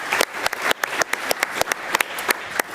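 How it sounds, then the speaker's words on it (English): Scattered applause from a small audience at a data-for-decisions panel event, a handful of separate sharp claps ringing out unevenly over a soft crowd wash, fairly close and brief. "Please clap for Alon."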